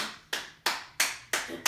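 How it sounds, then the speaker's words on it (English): Hands clapping during a yoga self-massage sequence, four crisp, evenly spaced claps about a third of a second apart, close and moderately loud. "clapping your hands"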